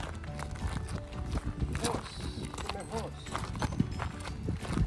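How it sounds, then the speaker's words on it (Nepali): A white horse walks at an animal encounter centre, its hooves clip-clopping in an uneven, close rhythm with a few sharper knocks, while voices chatter nearby. "ओहो सेतो सेतो घोडा"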